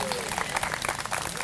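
Audience applause at a community presentation in Lac-au-Saumon, greeting family members in the room: a steady spatter of hand claps throughout, close and moderately loud, with no speech over it.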